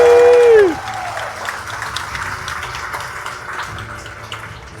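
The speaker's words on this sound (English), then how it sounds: "Let's give our applause, ladies and gentlemen." Audience applause for a Navy veteran at a color guard ceremony aboard the Margaritaville at Sea cruise ship, starting after a sustained tone fades, then a steady wash of clapping from a crowd that slowly fades.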